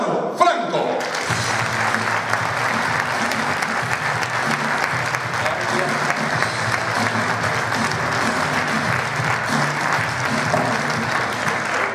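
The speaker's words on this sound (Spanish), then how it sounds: "vamos a recibir en el César Comedy con un fuerte aplauso a Manu Franco" A comedy-show audience at the César Manrique cultural centre breaks into loud, sustained applause to welcome comedian Manu Franco, a dense wash of clapping with some crowd voices mixed in that holds steady throughout.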